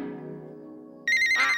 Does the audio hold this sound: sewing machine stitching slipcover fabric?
no